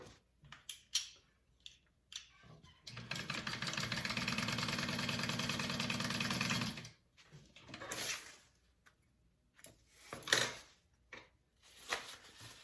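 A sewing machine stitches the straight-edge seam of a handbag, running steadily for about four seconds with a fast, even mechanical whir, framed by soft handling clicks and fabric rustles.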